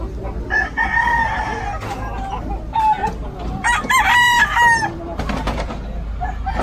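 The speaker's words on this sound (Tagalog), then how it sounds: "Ginawa pala tong farm ng mga manok." Chickens cluck and roosters crow repeatedly on a chicken farm, several loud nearby calls overlapping against a constant background of fowl noise.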